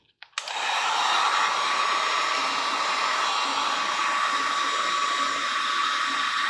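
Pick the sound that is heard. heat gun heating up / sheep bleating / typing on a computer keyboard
heat gun heating up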